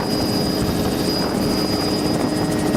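A helicopter flying along a rocky coastline with reefs and surf, its engine and rotor drone loud, steady and close throughout, with no talk over it.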